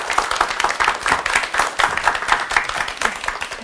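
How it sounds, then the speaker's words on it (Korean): An audience in a lecture hall claps warmly to welcome a professor onto the stage, dense, continuous applause from many hands heard close and steady throughout. "큰 박수로 맞아주시기 바랍니다"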